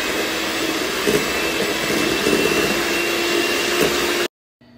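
An electric mixer whirs steadily, blending cheese with egg yolks for tiramisu, close and continuous, before cutting off abruptly near the end.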